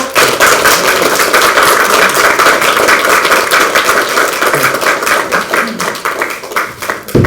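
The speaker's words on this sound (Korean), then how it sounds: "세 분째 큰 박수 부탁드립니다" Sustained loud clapping from a crowd at a political party press conference, dense and steady from start to finish, with no talk over it.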